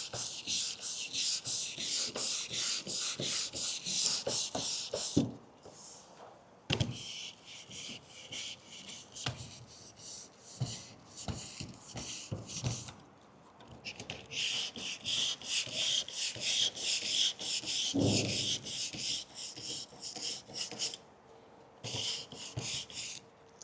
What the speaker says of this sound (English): I start to sand with the block.